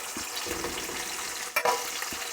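Sausages hit a hot pan already frying eggs, giving a steady, close crackling sizzle with a brief louder spit partway through.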